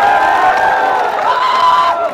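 A large crowd at a Mumbai political rally claps and cheers loudly and continuously, with shouts and whoops carrying over the dense applause.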